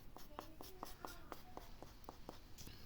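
A gray pencil colors in a drawing's eyes in quick, regular scratchy strokes, about a dozen light scrapes in a steady rhythm, close and faint with no talk.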